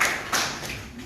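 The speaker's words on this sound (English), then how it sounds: "It's okay to clap for these people." An audience at a political gathering claps in a brief burst of dense, fairly close applause.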